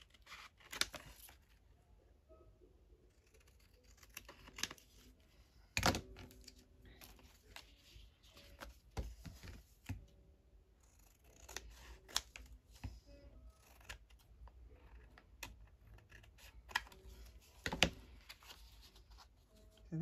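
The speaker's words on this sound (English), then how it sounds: "I'll put a little snip there. So I've got to trim off the excess." Scissors snip and trim paper for a Christmas junk journal, a scattering of sharp, dry clicks and cuts with quieter rustling between them, close by and without speech.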